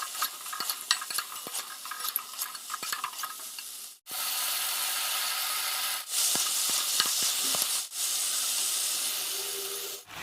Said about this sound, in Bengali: এবার আমি ভেজে রাখা সমস্ত সবজিগুলোকে দিয়ে দেবো। আজ আমি এর ভেতরে পেঁপেও অ্যাড করেছি।